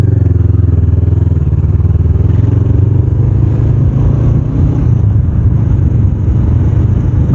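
Honda CBR 500R motorcycle ridden in 17°F cold, a loud, close engine drone with wind rush from the rider's position, steady throughout with slight changes in pitch and no speech.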